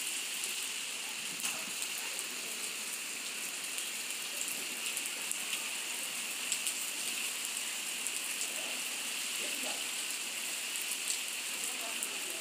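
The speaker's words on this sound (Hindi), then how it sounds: "बारिश बहुत तेज़ हो रही है" Heavy rain pours down steadily, a dense continuous hiss with scattered nearby drips and splashes on walls and surfaces, with no voices over it.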